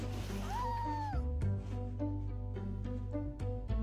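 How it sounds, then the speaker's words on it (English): A pet cat gives a single drawn-out meow when hugged, clear over a steady low indoor hum, followed by soft rustling and handling noises. "You can get her to meow if you just give her a little hug every time"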